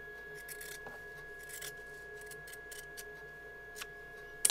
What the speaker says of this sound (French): Vous obtenez ceci et vous allez ensuite couper.